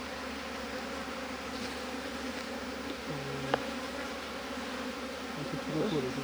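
Honeybees buzz as a steady, dense swarm hum during a hive transfer, the drone continuous and close with a brief sharp knock partway through.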